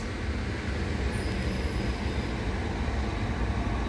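A Southeastern Class 375 electric train arrives at Tonbridge on the South Eastern Main Line, a faint steady low rumble and rushing hum with a thin high tone, distant and unbroken for a few seconds.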